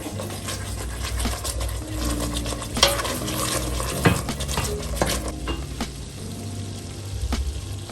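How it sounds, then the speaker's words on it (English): Pork chops go into a coffee glaze mix in a hot pan, giving a continuous sizzle with scraping and stirring clatter and a few sharp utensil knocks against the cookware. "Dropping the chops into the whole mix so that it can sit in it"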